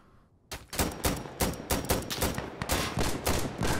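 Rapid bursts of gunfire in the tactical shooter Insurgency: Sandstorm, a steady run of sharp, loud shots after a brief quiet start, no one talking.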